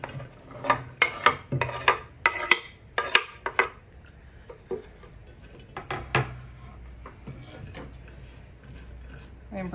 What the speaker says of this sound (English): we're gonna place the onions and the peppers